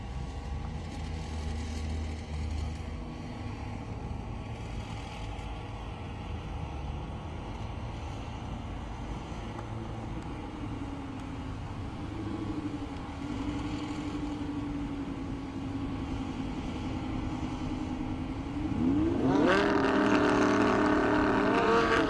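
A Lamborghini Huracan and a GTR race on an airstrip, their engines a steady loud drone that climbs sharply into high revs near the end.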